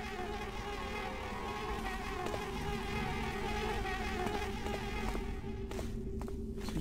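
Flies buzz steadily and loudly throughout a level of the Thief fan mission Endless Rain, a dense insect drone with no speech over it.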